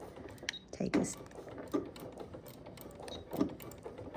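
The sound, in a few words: sewing machine stitching a baby quilt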